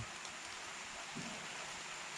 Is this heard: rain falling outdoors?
yes